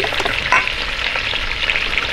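Chicken pieces frying in a Dutch oven, a steady close-up sizzle and crackle with a brief scrape of stirring, no voices.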